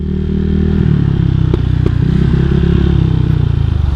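Motorcycle with a new engine cranked on its electric starter, a loud, close, continuous churning whir with a couple of sharp clicks, running steadily throughout.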